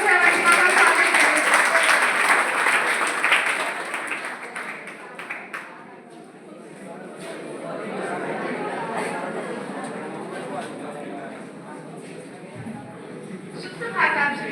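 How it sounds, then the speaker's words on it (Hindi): An audience at a school's farewell function for Class 10 claps loudly for about five seconds, then the clapping fades into murmuring chatter and voices. "जोरदार तालियों से अवंतिका का स्वागत करें।"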